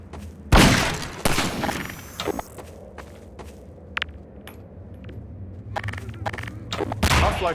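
Gunfire from snipers and Combine soldiers in Half-Life 2: loud sharp shots and short bursts scattered irregularly, with metallic clinks and mechanical clatter between them.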